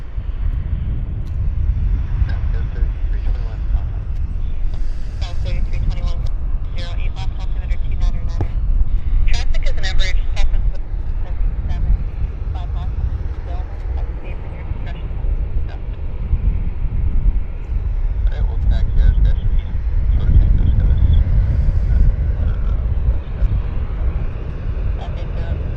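An Air North airliner on its takeoff roll for Whitehorse at Vancouver Airport, a loud, steady engine roar with wind buffeting the microphone, swelling and holding for the whole stretch.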